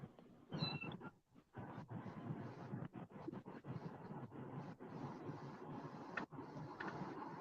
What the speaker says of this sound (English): Right there's the kitten.